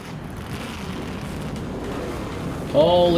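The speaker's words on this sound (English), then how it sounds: "Start your engines." Several NASCAR stock car engines start up in the racing video game NASCAR Thunder 2003: a steady broadband rumble, then a louder burst of rising, revving engine tones near the end.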